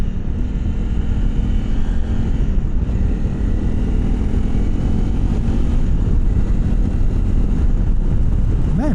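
Continuous engine hum and wind roar from a 2025 Honda CRF300L Rally motorcycle being ridden, loud and close throughout, with slight pitch shifts as the revs change and no speech.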